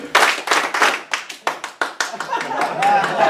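Hands clap in a classroom in a rhythmic pattern of sharp, close claps, three groups in quick succession, followed by a murmur of voices.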